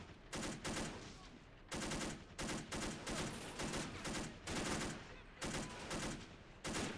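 Video game gunfire in a street battle, with rapid bursts and sustained automatic fire mixed with bullet impacts, loud and dense, broken by short pauses between volleys.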